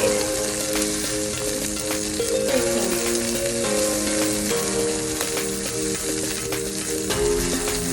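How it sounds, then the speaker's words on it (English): A steak sears in canola oil in a preheated cast iron skillet with a loud, dense crackling sizzle that holds steady from start to finish, along with a faint tonal hum in the background and no speech. "once that oil heats up, go ahead and place your steak inside"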